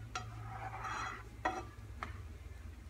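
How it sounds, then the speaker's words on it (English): Seafood sauce is stirred in a pan over high heat: a soft sizzle under a low hum, with a few sharp scrapes and taps of the utensil against the pan, close and without talk. "Turn it back up to high and continue to keep stirring it"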